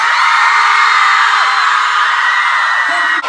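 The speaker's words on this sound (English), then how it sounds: "Detroit, I think the members want you to scream a little louder." A concert crowd of fans at a live fan event in Detroit screams and whoops in one sustained, loud roar that cuts off abruptly after about three seconds.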